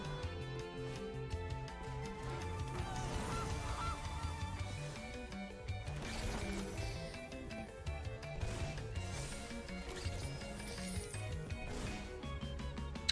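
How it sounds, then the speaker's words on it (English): A goose honks again and again in a video game, its nasal calls rising over a rhythmic, layered game soundtrack at a steady, moderate level. "And they got a goose!"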